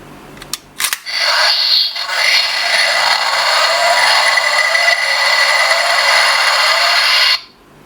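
A Chinese-made Mass Brain Zetsumerise Key transformation toy plays its electronic sound effect from a small built-in speaker, opening with a few sharp clicks, then a loud, sustained bright tone that holds for several seconds before cutting off abruptly.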